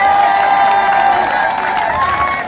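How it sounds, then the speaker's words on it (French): Crowd at a political rally applauding and cheering, a loud sustained wash of clapping and voices with a steady tonal hum running through it. "On peut l'applaudir,"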